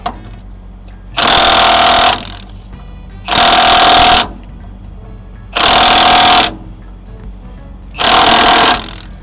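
Four loud, evenly spaced bursts of a powered wrench, each about a second long, torque a bolt during an emergency repair on a Peterbilt 379 truck, with quiet gaps between them.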